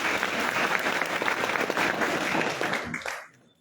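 Loud, dense audience applause at an IMC business event, steady clapping from a crowd that fades out sharply in the last half second.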